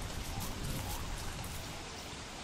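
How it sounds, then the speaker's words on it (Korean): Steady rain falls in the video game Don't Starve: Reign of Giants, a dense, even patter of droplets that hisses continuously without pause and without voices. "근데 갑자기 비가 와서 조금 걱정이에요."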